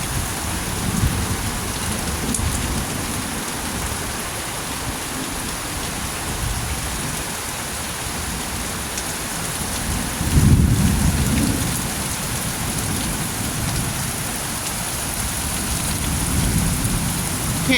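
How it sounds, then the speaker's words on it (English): Heavy rain falls in a steady, dense hiss, with a deep rumble of thunder swelling partway through during a bad storm under a flood warning. "You can see the rain coming down."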